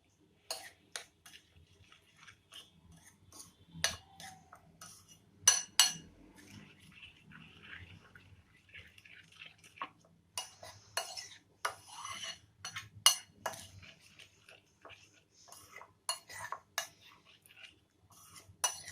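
A spoon scrapes and clinks against a pan while masala okra curry with yogurt is stirred, giving faint, irregular metallic taps and light scraping spread across a quiet background.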